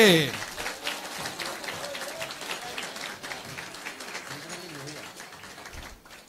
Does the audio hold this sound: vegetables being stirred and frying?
no